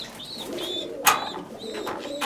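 A Black Lahori pigeon sitting on eggs coos softly and close, with faint higher chirps nearby and a short sharp clatter in the middle.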